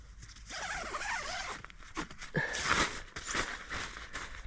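A zipper on the mesh door of a compact Falcon bivvy tent is drawn open in several quick rasping pulls, close by, with rustling fabric in between.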